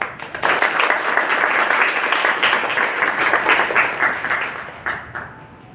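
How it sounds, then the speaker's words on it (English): An audience at a Women in Tech event claps together in a loud, dense burst that holds steady for several seconds, then thins out and fades near the end. "I think you all should clap once again"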